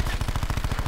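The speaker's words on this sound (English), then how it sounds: "Oh, I shot him so many times" Rapid automatic gunfire in Call of Duty: Black Ops 4, a fast, evenly spaced string of shots in a short burst.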